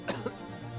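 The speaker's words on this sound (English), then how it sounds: "Cough, cough." A cough effect from the video game The Great Ace Attorney Chronicles: two quick, fairly close coughs in a row, set over a steady low game background hum.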